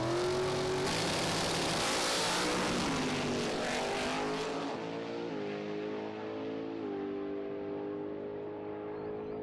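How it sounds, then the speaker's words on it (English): A drag race on a quarter-mile strip, including a 1963 Chevy Corvette, with cars launching into a loud, rising engine roar that holds strong for several seconds before fading into the distance, with no speech. "In the first semifinal, Swiss vet Bruno Bader in his 63 Chevy Corvette will face the big favorite Jan Eriksson"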